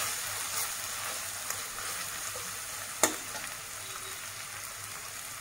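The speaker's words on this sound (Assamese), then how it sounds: "পিঁয়াজখিনি এনেকৈ মজি যাব দিব।" Onions frying in a pan, giving a steady soft sizzle with faint stirring and one sharp scrape or tap partway through, with no talking.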